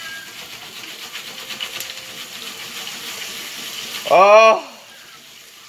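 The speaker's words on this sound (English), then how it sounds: "I hear it sizzling really heavily now. And here comes popcorn." Popcorn cooking over an open flame sizzles heavily as a steady, dense hiss, then a person's brief loud exclamation cuts in near the end.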